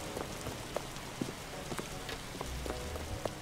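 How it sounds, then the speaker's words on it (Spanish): Heavy rain pours down in the Roblox game RoVille, a steady hiss of drops pattering on surfaces with scattered sharper taps, fairly quiet and heard alone with no talking. "está muy fuerte la lluvia"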